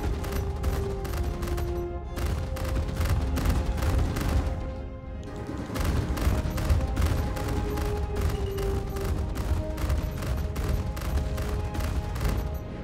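Ship ballistic weapons firing in a space combat video game, a rapid relentless stream of gunfire bursts, loud and dense, with one brief pause before the barrage resumes.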